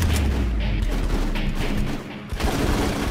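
Sustained gunfire and explosions from the 2004 video game Full Spectrum Warrior, a dense, loud, rumbling barrage with heavy low booms that briefly dips near the two-second mark before resuming.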